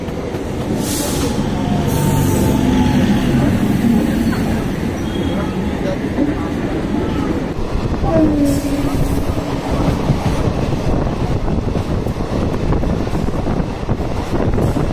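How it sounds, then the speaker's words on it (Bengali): A train pulls out of Sealdah station, its rumble and rolling clatter sustained throughout, with brief wheel squeals and faint horn-like tones near the middle amid background bustle. "7:40 আমাদের ট্রেন ছেড়ে দিল শিয়ালদা স্টেশন থেকে"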